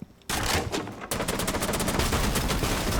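In a video game, a gun fires in rapid repeated shots, loud and close, with a dense automatic burst that keeps going.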